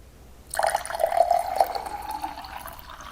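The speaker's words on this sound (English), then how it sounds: "Now let's see what happens when we pour Kangen water in." Kangen water pours into a container with a sudden start and a steady, close liquid gush and trickle lasting a couple of seconds, then tapering off, with no talking.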